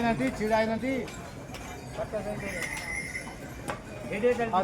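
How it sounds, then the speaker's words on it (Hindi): Hooves of eight to ten horses clip-clopping past on a mountain pilgrimage trail to Kedarnath, close by, with a scattered rhythm and occasional clinks, under steady talking. "वीडियो चलची से 8-10टा घोड़ा जो पास कले"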